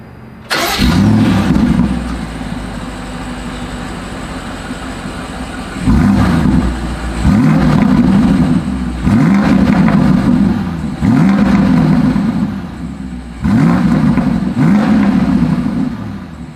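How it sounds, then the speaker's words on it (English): A BMW X5 M starts with a sharp burst at close range, then settles into a steady idle broken by four loud exhaust revs, each rising and falling back. "As always, here is that exhaust clip."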